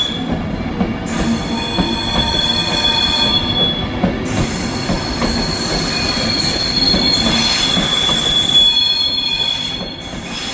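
A Class 390 electric passenger train running from London Euston to Glasgow Central passes close by at Carlisle, its wheels squealing steadily and loudly over a continuous rumble throughout, with no talk.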